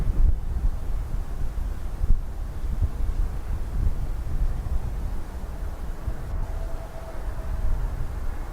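A strong crosswind blows across an airport runway in Dublin. It comes as a dense, low, rumbling buffet of wind on the microphone that stays loud and constant, with faint distant engine noise and no voices.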